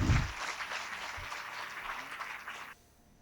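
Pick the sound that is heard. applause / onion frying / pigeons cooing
applause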